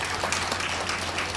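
An audience at a Tamil literary talk breaks into applause, a dense, even wash of many hands clapping that stays steady and fairly loud for the whole moment.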